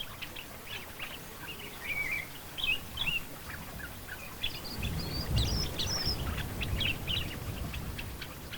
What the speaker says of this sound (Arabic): على نفس المكان يتردد الأبلق أسود الأذن، طائر من فصيلة صائدات الذباب